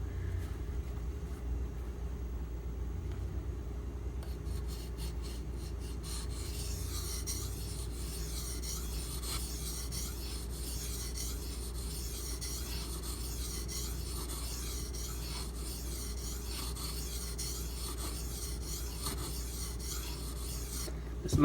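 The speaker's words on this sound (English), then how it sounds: "I can feel this stone biting into the steel" Knife steel from a custom Marfione Socom Elite being ground on a Naniwa whetstone, a continuous close raspy scraping with rapid repeated strokes and a steady low hum beneath, no talking.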